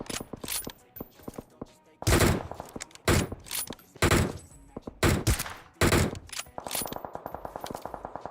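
Repeated bursts of rapid gunfire from a hill in PUBG Mobile, some loud and close, others in quick rattling volleys, broken by brief pauses.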